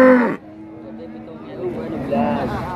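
Cattle at an Indonesian livestock market: a nearby moo at the start, then low lowing and calls under people talking.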